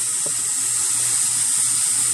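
Tap water pours steadily into a measuring cup filled to the one and three-quarter cup line, a continuous close hiss of running water with no talking.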